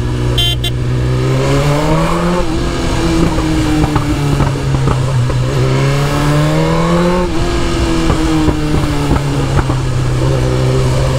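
BMW S1000RR sport motorcycle engine revving up and down in two long rising sweeps, loud and close, a steady mechanical roar with no talking.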